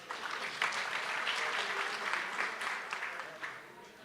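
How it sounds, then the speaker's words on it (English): An audience at a national parole review summit claps in a sustained round of applause, dense and even throughout, with a voice faintly audible underneath. "Let's give them a round of applause."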